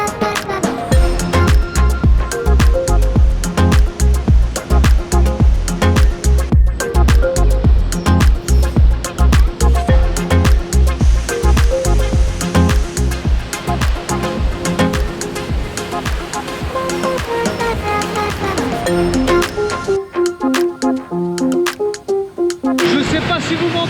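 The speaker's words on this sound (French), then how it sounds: "on est au pied de la cascade, ça fait un boucan de dingue" A roaring waterfall in Bosnia heard from its foot, a loud continuous broadband rush of water that stays constant and close throughout, fading somewhat near the end.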